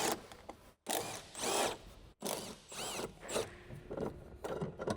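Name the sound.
electric impact wrench with 13mm deep socket removing nuts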